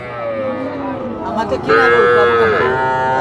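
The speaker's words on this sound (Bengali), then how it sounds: "এদিকে দুটো মাঝারি সাইজের বাছুর আমরা দেখতে পাচ্ছি" A young native bull calf, about a year old, moos loudly and close by at a village cattle market. Two drawn-out calls come in quick succession, with low background murmur and no clear speech over them.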